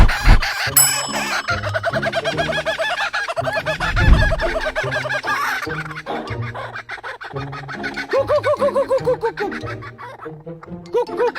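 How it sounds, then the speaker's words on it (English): Raucous, laughing cackles from fighting kookaburras, loud and close, building into rapid rhythmic chattering bursts over about eleven seconds with no talking. "Kookaburra fight."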